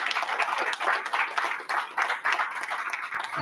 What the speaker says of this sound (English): He needs a big round of applause.